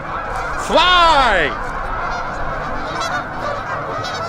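Loud goose honks ring out near the start, a harsh, rising call cutting over steady wind and outdoor background noise, with someone briefly shouting.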